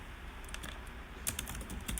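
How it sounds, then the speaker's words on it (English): Quick, light keystrokes on a computer keyboard, a short burst of soft clicks heard fairly quietly against a low background hum. "Let me type those two things out."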